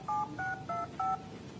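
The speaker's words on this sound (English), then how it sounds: "Newton will generate the DTMF dialing tones to place the call" An Apple Newton handheld generates DTMF dialing tones: four short, evenly spaced dual-tone beeps, clean and moderately loud over faint background hiss, with no talking.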